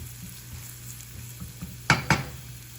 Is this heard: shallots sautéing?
yes